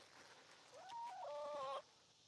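A chicken gives a drawn-out, rising vocal call lasting about a second, fairly close and clear over a quiet outdoor background.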